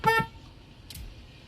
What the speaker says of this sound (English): I honked the horn so you could find which direction I'm at